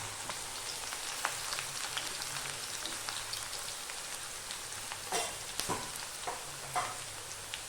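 Sliced onions frying in hot oil in a pan, a steady soft sizzle and crackle with scattered pops and a few louder stirring scrapes near the end, no talk.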